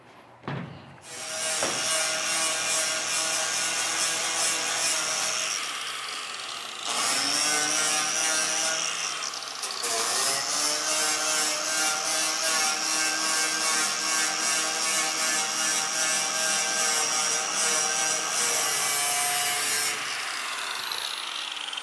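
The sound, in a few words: cleaning aluminum jon boat hull surface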